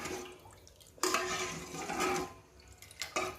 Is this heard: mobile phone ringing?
no